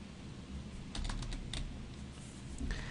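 Typing on a computer keyboard while an awk script is written, with quick, faint key clicks in short irregular bursts over a quiet room hum.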